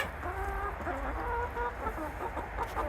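Laying hens cluck softly in a nest box inside a backyard chicken coop, with continuous overlapping murmuring clucks at moderate distance over a low background hum.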